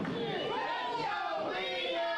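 A wrestling show crowd at UWO Cranberry Clash 2022 roars and cheers without letup, a dense wash of shouting voices with some chanting pitches rising through it.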